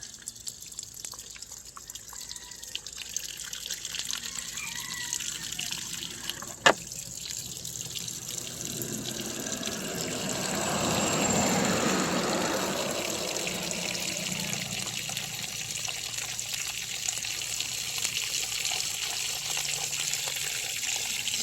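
Water flowing through a pipe during back flushing, a steady rushing trickle with a sharp click partway in, then a fuller surge of flow that swells and settles, close and continuous with no talk.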